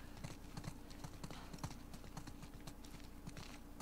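Steady clip-clop of horse hooves in The Last of Us Part 2, a continuous walking rhythm of soft hoof thuds over a low ambient game background, with no talk.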